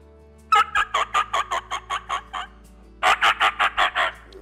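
A person blows a mouth call imitating a turkey: a run of ten short, evenly spaced yelps, a brief pause, then six louder, closer yelps.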